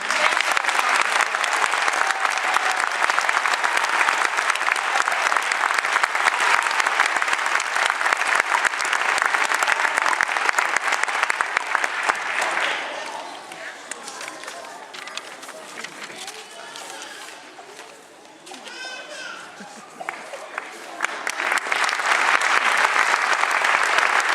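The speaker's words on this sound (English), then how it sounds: "Can we have a big round of applause again for these?" Audience at a first grade concert in a school hall breaking into loud sustained clapping that dips briefly midway with murmured voices, then swells back into full applause.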